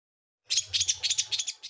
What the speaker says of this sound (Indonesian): Tut atau long-tail srike, mempunyai banyak nama, seperti pentet, bentet, dan papa.